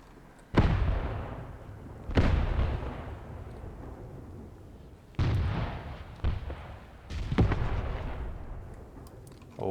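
Artillery guns in the Graviteam Tactics Mius war game fire a barrage of smoke rounds, four loud booming reports spaced a few seconds apart, each followed by a rumbling decay, with no talking.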